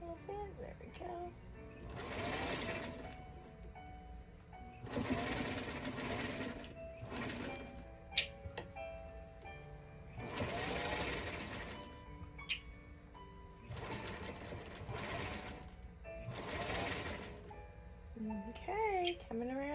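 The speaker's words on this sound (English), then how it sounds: "you definitely don't want to hit a pin midway as you're sewing with your needle" A sewing machine stitches a Pickle dish quilt block in short bursts of rapid needle chatter, about five runs separated by pauses in which a person talks quietly.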